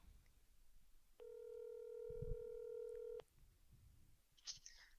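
A single sustained telephone tone sounds for about two seconds on a speakerphone call, clear and isolated against quiet background hiss, followed by a brief soft click and rustle.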